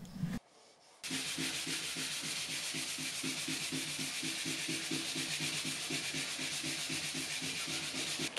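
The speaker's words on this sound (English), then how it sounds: "I use 400 grit to sand it down initially" Close, continuous 400-grit sandpaper rubbing on wood filler on a vintage dresser in a quick, even back-and-forth rhythm, loud and steady with no talking.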